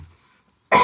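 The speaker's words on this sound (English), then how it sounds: "I don't know what the problem with this cough." A single short, loud cough bursts out abruptly near the end after near silence, with a faint low sound at the start; it comes from someone talking over football match commentary.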